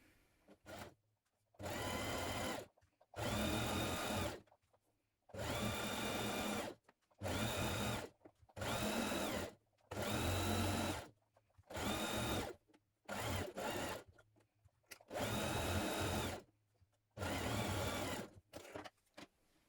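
A sewing machine base stitching a coat vent runs in about a dozen short bursts of fast, even whirring, each lasting a second or two and separated by brief pauses. It sounds close and alone, with no talking.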